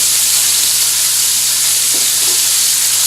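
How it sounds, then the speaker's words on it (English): Bacon sizzles steadily in its own rendered grease, a loud, even hiss of frying fat that runs unbroken throughout with only a faint low hum underneath. "the oil that the bacon made, the grease. That's the sound."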